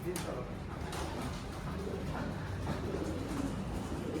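Pigeons cooing in a loft among a keeper's birds, soft low coos repeating over steady background noise, with a voice talking at times.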